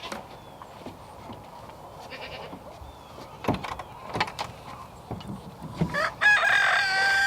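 Chickens cluck and a rooster crows amid farmyard noises, with goat or sheep bleats faintly mixed in.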